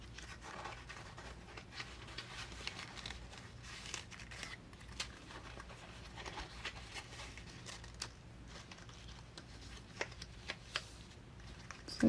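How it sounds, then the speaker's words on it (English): Paper in a Halloween craft kit being folded along score lines, quiet crinkles, taps and soft scrapes in an irregular close patter. "now we're going to take and fold up our score lines here."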